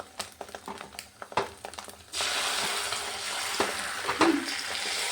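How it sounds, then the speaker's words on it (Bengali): A few sharp clicks and taps lead into a loud, steady sizzle as poultry eggs start frying in a pan. The crackling hiss runs continuously and close by, with occasional louder pops. "তো এখন ভাজি করে নিচ্ছি"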